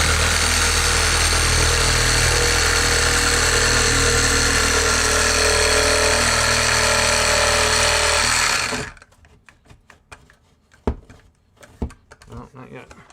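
A power tool cuts through an attic ceiling toward a joist, a loud, steady whining drone for about nine seconds that then stops abruptly, leaving scattered knocks and clatter.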